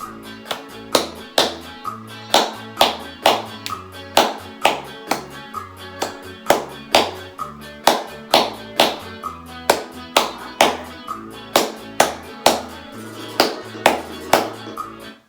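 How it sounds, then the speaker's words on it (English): Hands clap a steady bachata beat in time with Latin music, a crisp, even, repeating pattern of sharp slaps that runs the whole time at moderate loudness. "Now, you clap this bachata beat with me."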